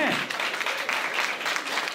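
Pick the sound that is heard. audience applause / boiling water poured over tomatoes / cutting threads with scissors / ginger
audience applause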